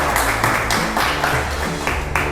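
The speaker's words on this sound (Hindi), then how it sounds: "ऑडियंस के लिए जोरदार तालियां हो जाए।" A quiz competition audience for a Class 11 Commerce quiz claps in a dense, continuous burst of applause, loud and close throughout, without talk over it.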